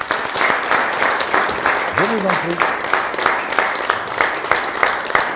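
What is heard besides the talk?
audience applause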